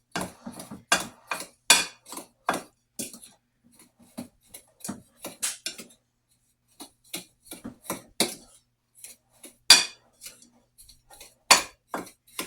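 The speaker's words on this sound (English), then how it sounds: "Just mix it up with a spoon." A spoon scrapes and clinks against a bowl while stirring coffee cake filling by hand, in irregular bursts of sharp taps with brief pauses, close and fairly quiet.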